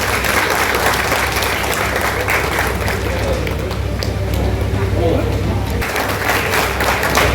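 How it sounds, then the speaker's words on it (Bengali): Sustained applause from an audience at a Congress party welcoming ceremony held on a stage, dense steady clapping that fills the whole stretch at a fairly loud, even level with a brief dip near the end. "প্রত্যেকে একটু হাততালি দেবেন।"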